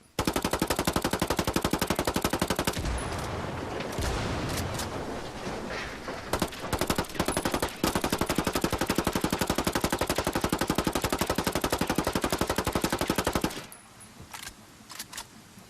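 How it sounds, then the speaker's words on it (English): Residuos submachine gun in Ghost Recon Wildlands firing long rapid full-auto bursts, loud and close, with brief pauses and short tail bursts near the end. "we have the Residuos for defeating El Pozolero in San Mateo, one of the more balanced submachine guns"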